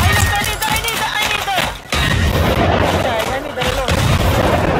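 Gunfire in the video game Generation Zero, dense loud booming shots in close succession across the whole stretch, with a brief lull in the middle.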